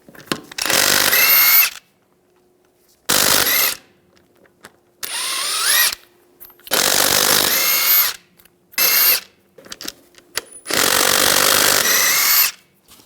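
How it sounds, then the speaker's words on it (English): A power impact tool removes lug nuts with a 22mm socket from a Ram 1500 wheel, firing in five loud, close bursts of whirring and rattling, each a second or two long, with silent pauses between. "take the lug nuts off."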